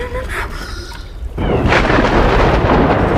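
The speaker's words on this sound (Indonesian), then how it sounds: "di tengah badai dan hujan pada malam hari" A night storm at sea in the film Nowhere, with heavy rain hissing steadily and a loud rumbling thunder surge that swells and fills the scene after a brief quieter stretch.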